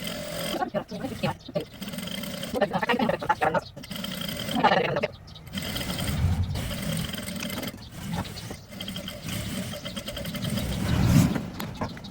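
A sewing machine stitches the side seam of a kids' horse-wire gown, a steady mechanical whirr with short stops and restarts running under someone speaking nearby.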